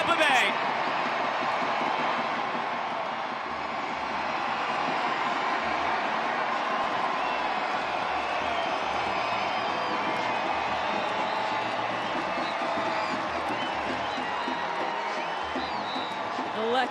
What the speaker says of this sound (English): Electric reaction from the crowd.